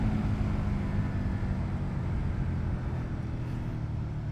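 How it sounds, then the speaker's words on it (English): Steady, low rumbling drone of a 2022 Suzuki SV650 V-twin engine fitted with a Leo Vince exhaust, running continuously and close, with no talk over it. "You have that raw V-twin sound of the engine, and with this Leo Fins exhaust that really enhances that sound."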